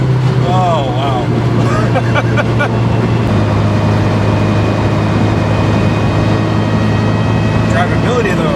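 A 2006 Mitsubishi Lancer Evolution 9 with PPG straight-cut gears and a 2.3 stroker engine drives along, its gearbox whine a sustained tonal hum over loud engine and road drone from inside the cabin, with people talking over it.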